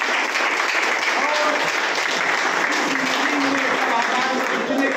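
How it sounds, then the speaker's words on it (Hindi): Audience applause at a company achievers' event in India, steady dense clapping from a large seated crowd sustained for five seconds, loud and even throughout. "मैं चाहता हूं उनके लिए एक जोरदार ताली हो जाए।"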